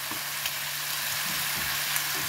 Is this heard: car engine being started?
no